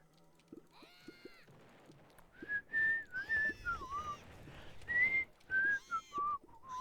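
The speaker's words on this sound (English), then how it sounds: "I shouldn't be whistling into the microphone." A person whistles straight into a microphone up close, loud and breathy, with a string of short melodic phrases of rising and falling notes separated by brief pauses and a few soft clicks.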